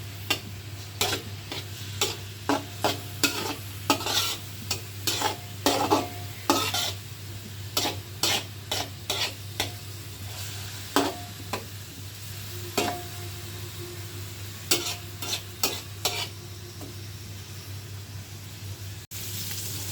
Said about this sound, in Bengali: ভালোভাবে ভেজে নিচ্ছি তেলের উপরে।